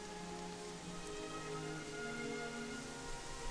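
Steady rain falls in the game Gothic 3, a dense, even patter on surfaces that holds constant throughout with no voices.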